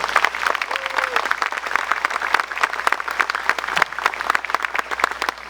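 A church congregation at a sermon bursts into sustained applause, dense clapping from many hands throughout, with a few faint voices mixed in.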